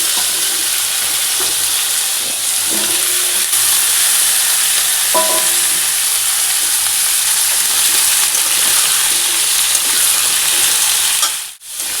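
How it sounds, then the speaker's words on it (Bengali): Potatoes with green chillies and cumin powder sizzle and fry steadily in a pan, a constant close hiss with occasional stirring clinks, no talking. "এবার আমি একসঙ্গে ভেজে নেব কাঁচা লঙ্কা দিয়ে দেবো"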